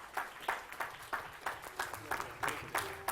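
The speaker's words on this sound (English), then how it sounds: "With a big round of applause, please welcome CA Savitrao" A small audience claps at a formal professional gathering, a brief, fairly faint patter of scattered hand claps lasting a few seconds.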